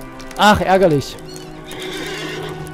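A horse in the Lord of the Rings Online video game gives a loud, wavering whinny near the start, with hoof clip-clop and someone talking afterward.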